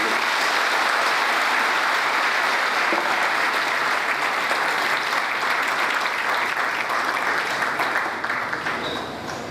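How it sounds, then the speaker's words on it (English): Audience applause at a university inaugural lecture: loud, sustained clapping from a large crowd filling the hall, holding steady for several seconds before tapering slightly at the end. "on a round of applause"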